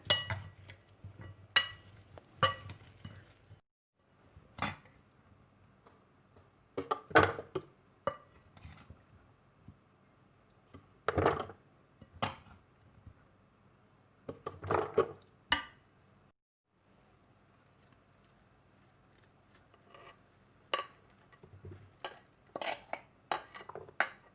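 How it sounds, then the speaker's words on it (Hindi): Metal spoon clinking and scraping against a container while mixing vegetable achar, irregular sharp clinks and taps in bursts with quiet gaps between, close and alone without talk. "अच्छी तरह मिक्स करेंगे और एयर टाइट बॉक्स में डालकर 3 से 4 दिन के लिए छोड़ देंगे"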